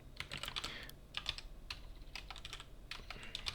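Brisk, irregular clatter of typing on a computer keyboard while writing a script, close and fairly quiet, with uneven bursts of keystrokes and short pauses between them, and no voices.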